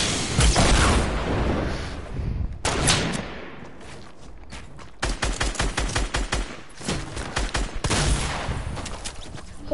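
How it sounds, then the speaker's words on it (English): Gunfire in a PS4 shooter: dense bursts of rapid gun volleys and loud booms, near and continuous, with heavier rattling fire in the later half. "When you're sitting there shooting at them."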